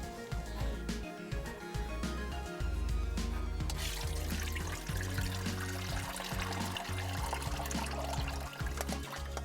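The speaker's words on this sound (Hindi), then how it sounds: "चावल हमारे भीगे हुए हैं, चावलों को निकाल लेते हैं पानी से" Water is drained from soaked rice, pouring and trickling steadily with a close, full splashing wash and a low rumble throughout, uninterrupted by voices.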